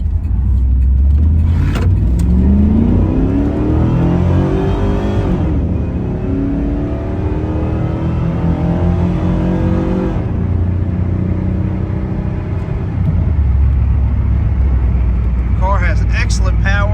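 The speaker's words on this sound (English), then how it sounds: "have Greg get on it just a little bit and we'll see what this Camaro's made of" A 1993 Chevrolet Camaro B4C police interceptor engine revs and accelerates loudly through several gear changes, with a voice talking over the engine noise.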